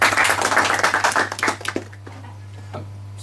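Audience applause at a quiz show, a dense burst of clapping that fades out after about two seconds, over a constant low hum, leaving a few scattered claps.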